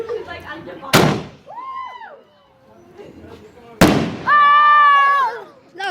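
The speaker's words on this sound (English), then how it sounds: "You love fireworks?" Two loud fireworks explode at close range, each a sharp bang followed by whistling, crackling trails; people talk between and around the blasts.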